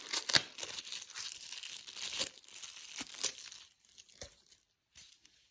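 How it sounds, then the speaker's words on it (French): Close crinkling and tearing of plastic wrapping pulled off a new iPhone 13 case, a busy rustle with a few sharp rips that thins out into sparse crackles toward the end. "on va enlever le plastique"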